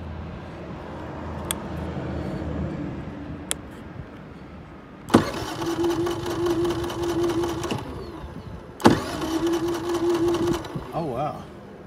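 A Generac iQ3500 generator's electric starter is tried twice, each time a loud whirring crank lasting a few seconds that fails to catch, after a couple of faint clicks; background noise runs throughout.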